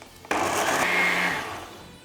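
Blender giving a brief buzz to a Korean short rib galbi marinade of sesame oil and water, starting abruptly and whirring loudly and steadily before easing off toward the end.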